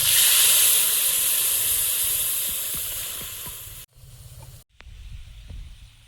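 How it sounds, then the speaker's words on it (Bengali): Fish curry gravy seasoned with black cumin boils in a pan for a pabda fish dish, a strong steady hiss that slowly fades, then cuts out twice before a quieter bubbling resumes. "ঝোলটা ফুটে গেছে"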